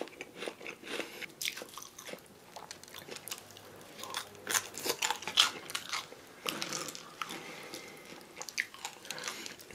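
Crunchy Korean laver chips (gim-bugak) are bitten and chewed close up, with sharp irregular crunches and softer chewing between them, no talking.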